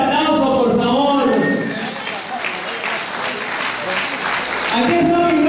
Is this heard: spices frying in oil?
no